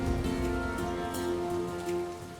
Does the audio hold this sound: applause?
no